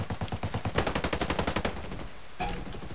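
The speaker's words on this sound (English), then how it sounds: "Hostiles are firing. I'm drawing fire." Automatic gunfire in the PvP video game Ghost Recon Breakpoint rattles in a fast, steady stream of loud, close shots for about two seconds, followed by a brief sharper burst.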